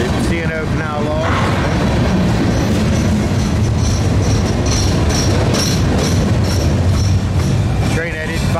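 A long freight train with a distributed power unit pulls out of Cumberland Yard with a loud, steady rumble and rolling clatter of cars. Brief squealing tones rise at the start and near the end.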